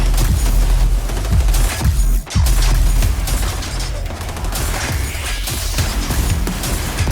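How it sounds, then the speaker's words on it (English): A saw launcher and other weapons fire in the XDefiant video game, with rapid bursts of punchy shots and booms over dense combat noise, loud and close throughout. "they brought their saw launcher to the party"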